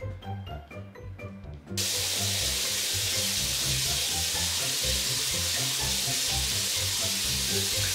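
Tap water running steadily into a sink while makeup is rinsed off, a constant broadband hiss starting abruptly after a brief quieter moment and holding evenly.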